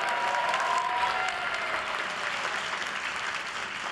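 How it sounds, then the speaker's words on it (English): An audience at the Columbia engineering school 2023 graduation ceremony applauds, a dense, sustained clapping from a large crowd in a hall that slowly eases in intensity. "Dean Cheng, if we could all just give him one more round of applause"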